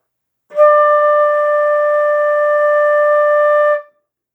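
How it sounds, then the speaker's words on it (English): A flute sustains a single clear, steady D for about three seconds, loud and close, starting and stopping cleanly with no other sound around it. "Our D should sound like this."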